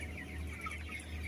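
Broiler chickens clucking steadily inside a closed poultry house, a dense continuous flock murmur with overlapping calls and a low ventilation hum beneath, no voices.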